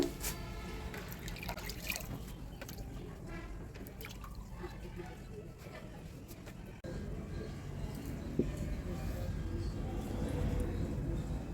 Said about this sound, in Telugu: ఈ ఆకుని 2-3 సార్లు నీళ్ళల్లో శుభ్రంగా కడిగేసి